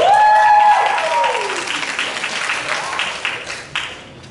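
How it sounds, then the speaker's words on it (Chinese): An audience applauds at a university guitar club concert, a burst of clapping that starts loud and fades over several seconds, with a brief tone and some voices at the start. "掌声！"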